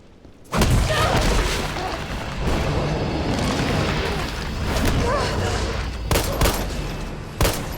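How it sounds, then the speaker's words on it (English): Gunfire in Resident Evil 3 Remake, heavy booming shots and bursts that stay loud and dense, with sharp separate blasts standing out near the end over the continuing game noise. "Shoot the gate."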